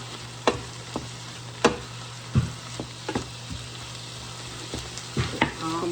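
Spaghetti sauce with onion and garlic being stirred in a pan, a low steady simmer under scattered scraping clicks of the spoon against the pot, close and fairly quiet.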